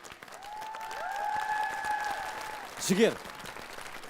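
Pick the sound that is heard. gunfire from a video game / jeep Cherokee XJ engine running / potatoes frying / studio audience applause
studio audience applause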